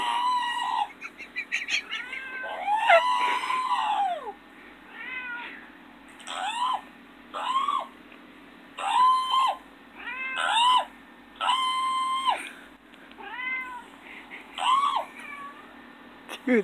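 Several cats meow repeatedly in drawn-out, rising and falling cries, close and fairly loud, with short pauses between calls and a faint voice early on.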